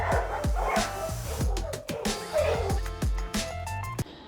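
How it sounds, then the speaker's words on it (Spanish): Several dogs bark excitedly in quick, repeated bursts, fairly close, with yips mixed in and a busy, echoing background, inside an animal shelter. "de lado y lado le están ladrando"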